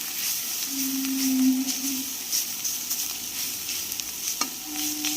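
Unpeeled prawns sizzle steadily in a hot pan, a dense close hiss with scraping stir strokes and a few brief higher squeaks, no voices.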